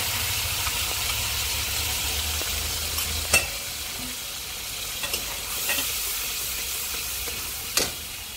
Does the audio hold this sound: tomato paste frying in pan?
yes